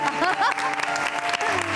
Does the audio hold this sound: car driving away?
no